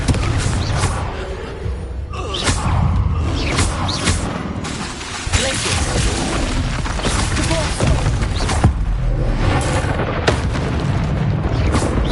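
Fire spell explosions in the video game Hogwarts Legacy, a dense barrage of loud booms and bursts that overlap continuously over rumbling combat noise.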